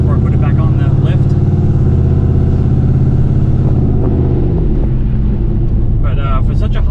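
A turbocharged Pontiac G8 GT engine running close by, a loud, deep, steady rumble with strong low harmonics, slightly easing toward the end.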